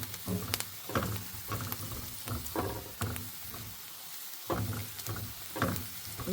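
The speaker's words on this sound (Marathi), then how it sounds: "चांगला गोल्डन होईपर्यंत फ्राय करायचा आहे ऑनियन" Chopped onion frying in a pan until golden for quinoa-and-paneer stuffed bell peppers, with a gentle steady sizzle broken by frequent spatula scrapes and knocks against the pan, close and quiet.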